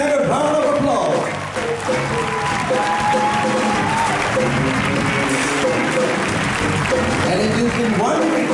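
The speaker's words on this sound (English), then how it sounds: "Let's give them another round of applause." Loud applause from a concert audience at a year-end show, dense clapping with crowd voices and scattered cheers blending in, sustained throughout.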